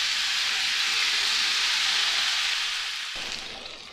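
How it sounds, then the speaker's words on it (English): Bacon sizzling in a pan for a full English breakfast, a loud, steady hiss that holds evenly before easing slightly near the end. "We'll get some bacon cooking."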